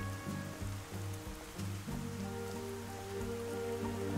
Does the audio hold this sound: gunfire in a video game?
no